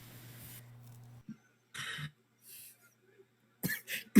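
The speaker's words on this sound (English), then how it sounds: "It's like you notice one of the maids coughing." A maid coughs in a few short, separate bursts, with a faint steady hum and quiet gaps between them.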